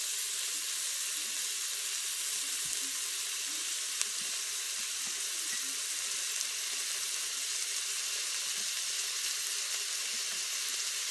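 Steady broadband sizzle of Salisbury steak frying in an Instant Pot as the browned bits are scraped up from the bottom, continuous and close with no talk.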